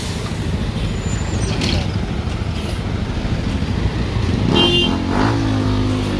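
A BGC city bus in Taguig pulls up at a rush-hour waiting area, its engine rumbling close under busy street noise with a brief hiss of air brakes near the end.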